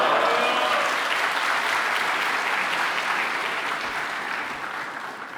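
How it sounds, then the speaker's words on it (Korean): A congregation at a church elders' couples retreat applauds to welcome a pastor to the front. The clapping is loud and dense throughout and fades slowly toward the end. "큰 박수를 부탁드리겠습니다."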